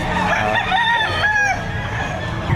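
Chickens calling close by at a poultry market in Batangas, with a rooster crowing in a drawn-out, rising and falling cry over a busy background.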